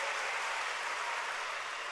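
Crowd applause for volunteers at a Kumbh gathering in Jamner, a steady dense clatter of many hands sustained evenly throughout at moderate loudness with no voices.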